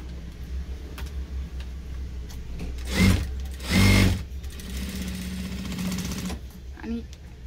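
A sewing machine stitching tucks on a 32-size four-tuck blouse runs in short bursts of rapid mechanical whirring, with someone talking steadily in between and over it.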